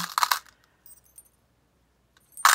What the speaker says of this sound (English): And I got some keys here.